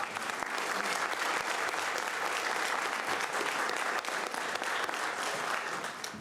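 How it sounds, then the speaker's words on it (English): An audience at a Hillsborough County Fire Rescue commendation applauds its senior staff: steady, dense clapping from many hands, continuous and moderately loud throughout with no voices on top. "Please give them a round of applause."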